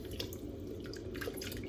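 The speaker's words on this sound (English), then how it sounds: "I'm gonna dump in the chicken broth" Chicken broth poured from a box into a pot of water on the stove, a continuous splashing, gurgling liquid sound, close and steady with no talk.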